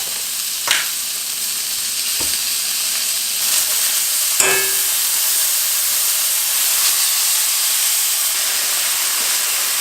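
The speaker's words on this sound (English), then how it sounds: "So you wanna go ahead and sear the other side." Steak searing in a hot pan with butter gives a steady, close, broadband sizzle and hiss that runs through the whole stretch, with a few brief crackles and spits and no talking.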